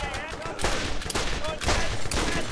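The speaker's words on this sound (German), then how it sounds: "Die Schüsse sind zu grausam." Rapid bursts of video-game gunfire in Borderlands, a loud stream of automatic shots in several clustered volleys, with a voice faintly mixed in.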